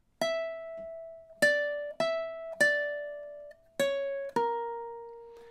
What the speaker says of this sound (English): And that's measure 10, which sounds something like this.